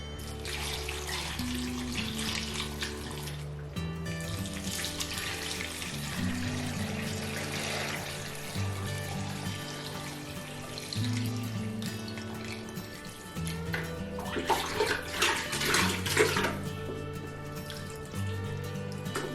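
Salted brine for pickling green tomatoes pours and splashes steadily in a running, watery stream, close by with some clinks, and no one speaks.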